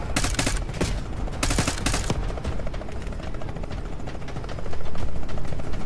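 Rapid bursts of automatic gunfire in a video game crackle loudly over a constant mechanical roar, the shots clustering early and fading into a steady rumble.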